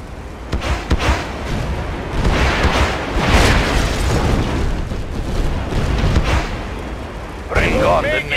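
MiG jets carry out an airstrike in the Yuri's Revenge game, sending out a rolling run of heavy, rumbling explosions that swell and fade over several seconds, with game voices heard over them.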